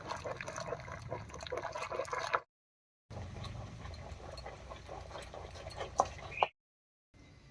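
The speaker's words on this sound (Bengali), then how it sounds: "ডালটা এবারে হালকা করে একটু ঘুটে নেব" Cooked lentil dal being stirred in a pot, a soft wet sloshing and scraping with faint clinks, broken by short silent gaps near the start and end; no talking.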